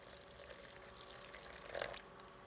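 A short, quiet pour of water into a bowl for sourdough bread dough, a soft splash rising near the end against faint background hiss.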